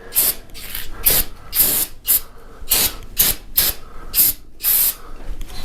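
Brake cleaner hisses from an aerosol can onto bare steel in short, loud, repeated sprays with brief gaps between them. The spraying is close and heard alone, with no talking.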